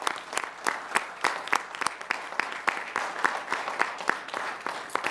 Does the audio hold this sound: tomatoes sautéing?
no